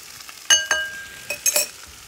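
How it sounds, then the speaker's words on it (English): A utensil clinks against a pan and stirs as brown sugar goes into a sauce, giving a few quick scraping strokes and glassy clinks, close and fairly loud. "Give that a stir."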